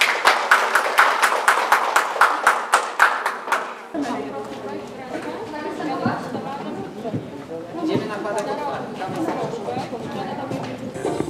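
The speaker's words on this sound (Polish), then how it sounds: "Jeszcze raz wielkie brawa dla zawodników" An audience at a show jumping competition claps in rapid, loud, evenly spaced beats, then the clapping stops abruptly and gives way to crowd chatter and a voice over a public address system.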